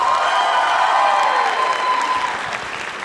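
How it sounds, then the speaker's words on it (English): A large audience gives a sustained round of applause and some cheering for a Cpop performance group at a Chinese New Year showcase, dense and steady before easing slightly at the end. "let's give CLAID Cpop another big round of applause"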